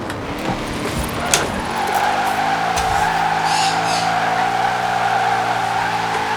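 A car in Forza Horizon 4 brakes hard and swings into controlled oversteer, its engine droning steadily while the tires squeal and skid loudly and continuously, with a sharp knock early on.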